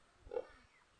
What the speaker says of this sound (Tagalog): may baboy.